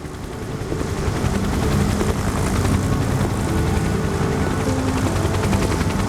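A video game helicopter flies, its steady rotor roar rising over the first two seconds and then holding loud and constant, with a faint pulsing beat underneath.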